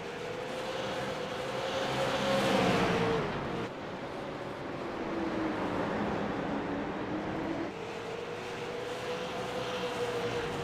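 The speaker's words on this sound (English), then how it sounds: "And you can see Flurry's car getting a little bit sideways up off the corner" A Sunoco Super Late Model race car engine of about 800 horsepower in a sim racing game at The Bullring short track, droning steadily and loudly, its pitch rising and falling through the corners, with no talking over it.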